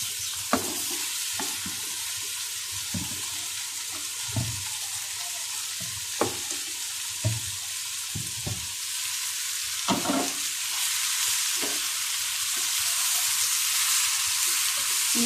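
Onions, tomatoes and green chillies sauté in a pan under a steady, even sizzle, with light spoon scrapes and taps scattered throughout, close and moderately quiet, no voices.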